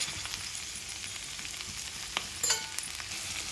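Okra (bendakaya) frying in a pan makes a continuous close sizzle, with a few sharper clicks and taps from stirring near the end and no voices.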